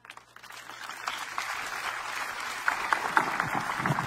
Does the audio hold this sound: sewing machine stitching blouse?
no